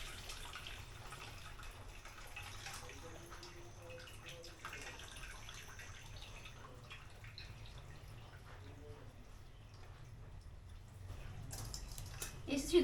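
Water drains and drips steadily from cooked wild monsoon leafy greens being strained, a soft, close trickle heard faintly with a voice murmuring in the background.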